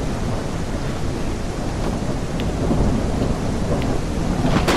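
Thunderstorm in the kayaking game Kayak VR: Mirage: heavy, continuous rain with deep rolling thunder that rumbles loudly throughout, plus a few sharper drop impacts, and no voices.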